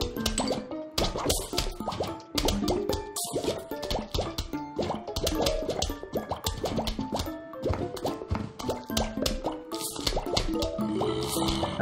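Puff-shrooms firing in the Plants vs. Zombies video game make a rapid, busy stream of short, bright plopping pops that overlap in irregular bursts and keep going for the whole stretch, with no talking.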